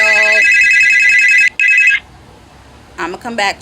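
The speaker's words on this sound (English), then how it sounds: "I got a phone call" A phone rings loudly and close with an incoming call, a bright electronic warble that cuts off, briefly resumes and stops, followed by a short burst of speech.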